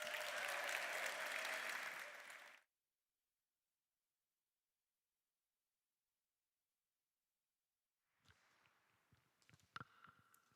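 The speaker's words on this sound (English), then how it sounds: "Artist Jemimah, please give her a round of applause." A live audience at an evening of storytelling, music and comedy bursts into applause for a performer, loud and sustained for a couple of seconds, then silence followed by faint shuffling and small noises.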